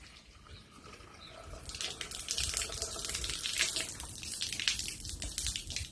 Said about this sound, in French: Je vais essayer de remplir ma bouteille d'eau avec mon premier verre d'eau.